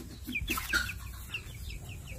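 A young stag rooster gives soft, close clucks and short chirping calls in an open farmyard, with light background noise.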